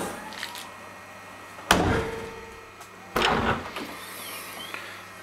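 Two solid DeLorean car door slams thud close by, a second or so apart, over a quiet background hum.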